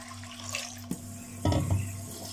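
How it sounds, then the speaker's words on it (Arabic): Water poured into a cooking pot for washed potatoes makes a brief splashing gush over a low kitchen hum, with a faint clink just before it. "احنا هنحط شويه ميه في الحله كده"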